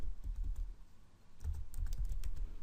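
Someone types on a computer keyboard, entering wp-admin into a browser bar: a short run of soft, close keystrokes, a pause, then a quicker burst ending in a firmer press of Enter.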